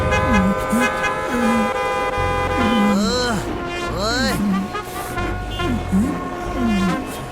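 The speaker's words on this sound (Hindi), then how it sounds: "वो तो पीछे बैठा हॉर्न बजा रहा है" A vehicle horn sounds repeatedly in short tooting blasts, loud and close, over busy traffic noise with a rising and falling tonal whine.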